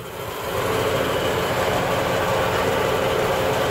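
A Jet 14-inch vertical band saw with a 7-speed belt drive runs steadily, a loud, even motor hum and whir that rises in the first half second and then holds constant, with no voices.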